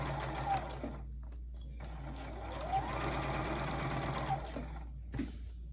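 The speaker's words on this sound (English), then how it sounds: "I'm just going to put in some basting stitches" A sewing machine runs basting stitches along a skirt seam, whirring steadily close up with brief pauses and restarts, over a low constant hum in the room.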